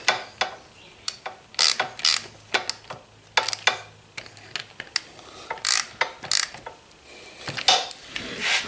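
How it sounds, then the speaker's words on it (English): A ratchet with a 10mm socket working bolts on a Chinese ATV, giving repeated bursts of sharp clicking at close range, with short pauses between strokes. "So as long as you have a 10mm socket or even a 10mm wrench, you can work on this machine."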